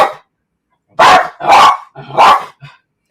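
Dogs bark at someone walking past outside: four loud, close barks in quick succession, with a brief softer yip at the start and another at the end.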